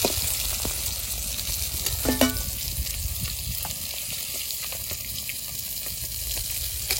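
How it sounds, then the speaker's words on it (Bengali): Koi fish sizzle lightly in hot oil in a pan, a steady even crackle throughout with occasional small stirring knocks. "ওই জন্য মাছগুলো বেশি ভাজবো না, হালকা করে ভেজে নেবো"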